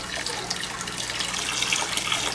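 Water pours steadily from a siphon hose into a filling bucket during an aquarium setup, a continuous close splashing rush with no talk.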